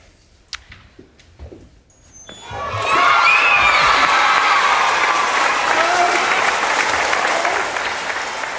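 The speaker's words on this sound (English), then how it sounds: "That applause is from students at a school" After a few scattered claps, a crowd of school students bursts into loud, sustained applause that fills the space and carries on steadily, with a few cheers mixed in.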